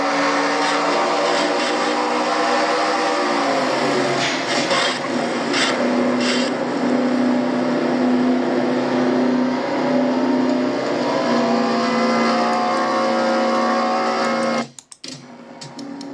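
A race car engine in a stock-car racing video game drones loudly and roughly for a long stretch, then cuts out abruptly near the end as the failing engine dies.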